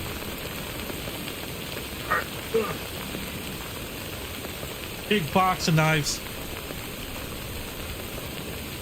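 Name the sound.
rain in video game Death Stranding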